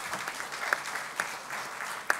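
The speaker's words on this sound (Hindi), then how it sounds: "स्वागत कीजिए जोरदार तालियों के साथ" An audience gives steady applause at the Sansad TV conclave in 2024, a soft, even patter of many hands, heard from some distance, with a few sharper claps standing out.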